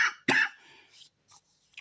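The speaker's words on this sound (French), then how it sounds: "je tousse pas tout le temps, mais presque" A person coughs twice close to the microphone, a harsh burst followed by a second rough cough, then faint throat sounds and breathing in a quiet room.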